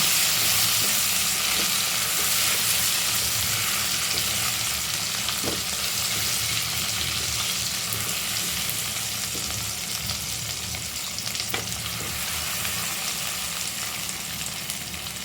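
Chopped tomato and two green chillies frying in hot oil in a pan for ghugni, a steady, dense sizzle that stays loud and close throughout with occasional faint clicks.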